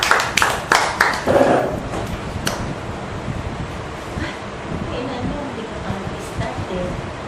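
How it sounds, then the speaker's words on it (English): Brief scattered clapping from a small audience at a Toastmasters club meeting, a few sharp claps in the first couple of seconds that quickly fade into low room noise and rumble. "One round of applause, please, again for Rhys"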